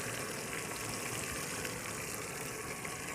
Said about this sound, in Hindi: इसको थोड़ी देर में भून लेते हैं ब्राउन होने तक।